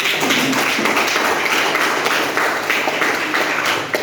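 A high school class claps steadily for several seconds, a dense patter of many hands with no talking.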